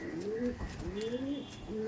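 Teddy pigeons, a flying breed kept for sale, give several soft, throaty coos close by in repeated rising-and-falling phrases, with faint background noise.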